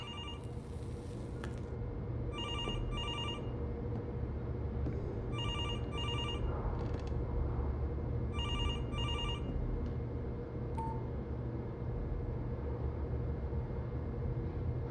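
A telephone rings in repeated double bursts about every three seconds, four rings in all, over a steady low background hum in a tense movie scene, with no one speaking.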